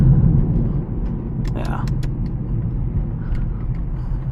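A 2008 Lexus IS250 travels slowly over a rough, bad road, making a steady low rumble with a few short bumps and rattles from the suspension.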